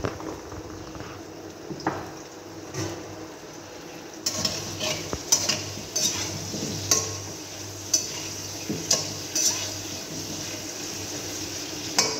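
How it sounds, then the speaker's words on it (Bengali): Potatoes frying in a pan with a little salt and turmeric, a constant sizzle punctuated by regular sharp clinks of a spatula stirring and scraping. "আলু একটু লবণ, একটু হলুদ হালকা দিয়ে ভেজে নেব"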